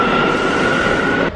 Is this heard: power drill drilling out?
no